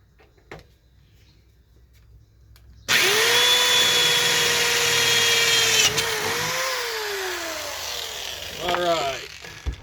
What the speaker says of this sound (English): Then we can drill the hole.